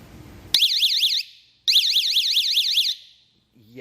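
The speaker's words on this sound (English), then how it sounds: "I'm going to show you what this thing sounds like" An APSPS1 waterproof motorcycle alarm siren wails loudly in two bursts of rapid rising-and-falling electronic tones with a pulsing beat, close and piercing, with a short pause between them.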